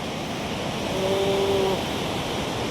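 Water rushes through a mountain valley on the Kedarnath route, heard as a steady, broad, moderately loud roar with no pauses. A faint tone sounds briefly in the middle.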